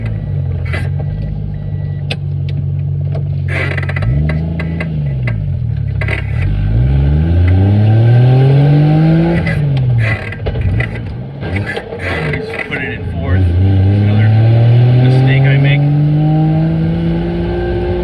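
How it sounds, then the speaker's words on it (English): Toyota Soarer (Lexus SC300) with a CD-0009 manual gearbox swap driving along, engine revving up and down through the gears, rising and falling harmonic sweeps under a loud, constant drivetrain drone with occasional clunks. "I'm gonna go for a drive and let you hear and see the car."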